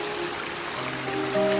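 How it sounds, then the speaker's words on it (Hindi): Water flows from a newly emerging stream source on a rainy-season village path, a steady, rushing trickle heard close and alone, with a faint tonal hum underneath. "पानी का सोर्स निकलना स्टार्ट हो चुका है"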